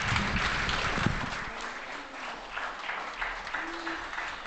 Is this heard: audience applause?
yes